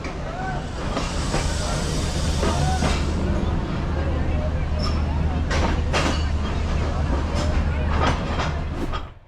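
Sleeper train rolling through the dark after leaving Karachi Cantonment station in Pakistan, a steady loud rumble and hiss of wheels on rails with scattered clicks and clanks from the carriage, continuous from start to end.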